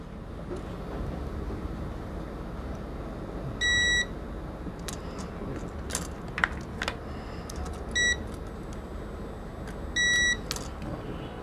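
A multimeter set to its combined diode and continuity mode gives several short electronic beeps spaced seconds apart, over a steady background hiss and faint clicks from a mobile phone repair bench.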